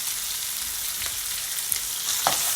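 Coconut callaloo saltfish fried rice sizzles steadily in a hot pan, a dense, even hiss with a few soft scrapes of the spoon as it is stirred. No voices.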